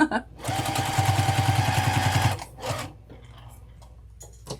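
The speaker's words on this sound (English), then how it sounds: "I'm just going to put it on the edge and just top stitch all the way down" A sewing machine runs steadily along the edge of a crossbody bag, topstitching in a rapid even rattle for about two seconds, then a short second burst, with handling noises after.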